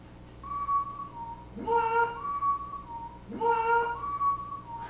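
A tonal whistled melody repeats twice with rising swoops, steady and fairly loud over a soft background hum.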